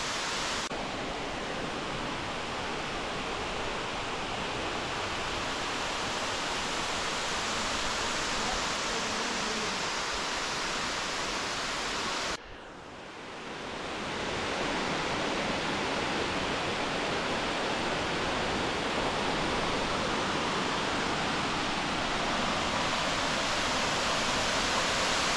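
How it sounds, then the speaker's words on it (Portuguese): A waterfall at Morro do Chapéu, Bahia, Brazil, roars in a constant, dense wash of rushing water, loud and close, briefly dipping midway before resuming at full strength. "E a cachoeira ali."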